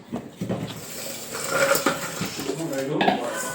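Raw mango pickle is spooned into a container, giving close metallic clinks and scraping of a utensil against the vessel, mixed with a wet squelch beneath steady background noise.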